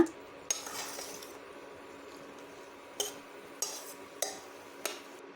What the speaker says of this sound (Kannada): ಒಂದು ಸ್ಪೂನ್ನಷ್ಟು ಗರಂ ಮಸಾಲಾನ ಸೇರಿಸಿ ಇದನ್ನು ಸಹ ಫ್ರೈ ಮಾಡೋಣ